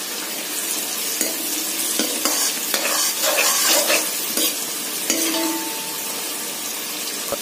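Cashews and raisins sizzle in hot butter and ghee for fried rice, a steady crackling fry broken by several sharp clinks and stirring scrapes close by, with no talking.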